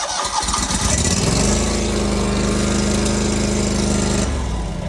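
A farm machine engine, a model 36 with a choke that won't stay up, cranks and catches into a loud, steady rumbling idle nearby.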